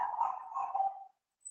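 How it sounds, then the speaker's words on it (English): Domestic dog barking indoors, a run of quick, fairly loud barks close by that stop abruptly after about a second. "sorry, my Elvis is barking"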